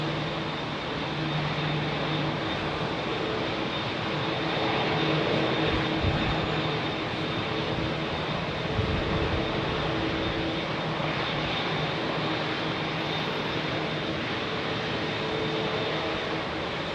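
A jet airliner, a Dreamliner, departing London Heathrow runway 27R gives a loud, continuous broadband engine roar that holds steady and close for the whole stretch, with no voices.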